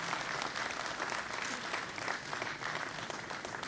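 Dense, steady applause from an audience at a governor's inauguration ceremony for a Kashmir autumn tour, a continuous even wash of many hands clapping for several seconds with no voices over it.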